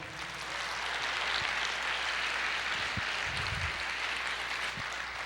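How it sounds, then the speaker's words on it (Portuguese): A church congregation applauds in a sustained, even wash of clapping that fills the room for several seconds, with no speech over it. "Você pode aplaudir o Senhor?"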